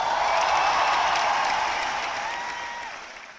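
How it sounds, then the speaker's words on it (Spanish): A television audience breaks into sustained applause, a dense wash of clapping that swells early and then slowly fades. "levántate y un aplauso para Mildred Villafañe."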